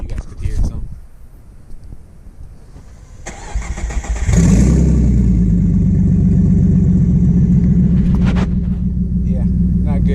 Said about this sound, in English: you can kind of hear the turbos a little bit